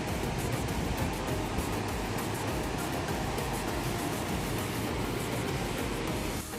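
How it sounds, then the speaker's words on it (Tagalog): Large ocean waves at Nagtabon beach in Puerto Princesa, Palawan, a dense, steady roar of surf washing continuously without pause, loud and close. "ang laki ng alon nila dito."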